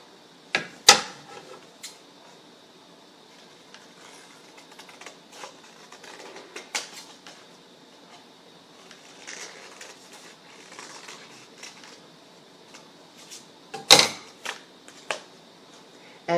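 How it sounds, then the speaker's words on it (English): Scissors cut through two folded layers of paper, giving a few sparse, quiet snips and rustles with long gaps of near silence between them. "And then we're going to cut through both the layers here."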